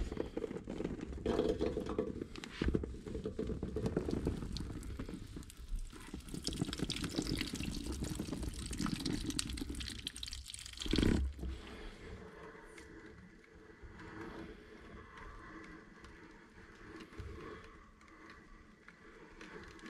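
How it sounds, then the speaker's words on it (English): Grapes are poured into a sterilized wine press for homemade wine, giving a soft, fairly quiet wet rush of pouring and trickling juice that tapers into gentle dripping and patter. "now I'm going to pour the grapes into the press and see what comes out of it"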